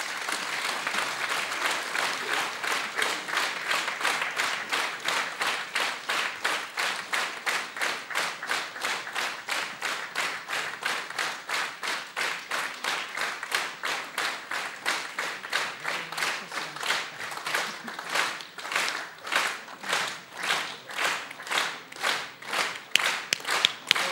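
An award ceremony audience applauds at a town day honours event, with many hands clapping steadily and densely. The clapping falls into a rhythmic unison beat that gradually grows more pronounced and slightly louder.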